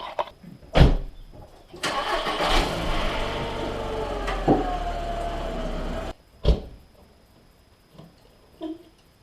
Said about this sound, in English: first thing I got to do is get the car out of here